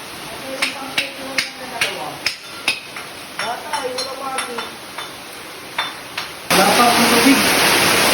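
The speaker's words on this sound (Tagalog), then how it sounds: "Gawa ng napakalakas na ulan." Heavy rain pours inside a tunnel, breaking in as a sudden loud, steady roar near the end after a stretch of voices talking and clinking sounds.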